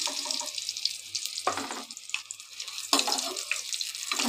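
Fried pointed gourd pieces are lifted one by one from sizzling oil, with a hissing fry bed under intermittent scraping and clinking of the utensil against the pan.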